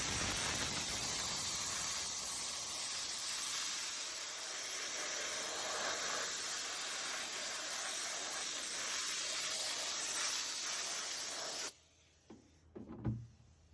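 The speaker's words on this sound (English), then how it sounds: "we're gonna go ahead and spray this thing on the back side here" A long, steady hiss of aerosol adhesive spray, close and continuous for about twelve seconds, then it stops and a few soft handling noises follow.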